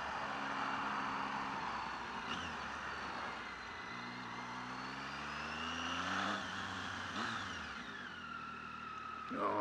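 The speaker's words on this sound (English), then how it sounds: "Oh, a bit of off-roading again on the gravel." A Triumph Tiger 800XC motorcycle riding off-road on gravel, its engine note rising and falling through a continuous, fairly distant drone with no talking.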